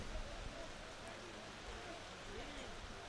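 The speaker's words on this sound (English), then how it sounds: "the rain is seriously coming down now" Heavy rain pouring down over a school rugby field during a first XV match, a steady broadband hiss that stays faint and continuous beneath a commentator's voice.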